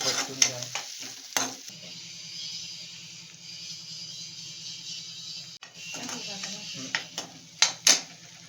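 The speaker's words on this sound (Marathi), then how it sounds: "आता ते एक दोन वेळा हलवून घेतला चांगलं मिक्स करून" Fish coated in masala is stirred and mixed in a pan over a continuous frying sizzle, with sharp utensil clatters and scrapes at the start and in a louder burst near the end.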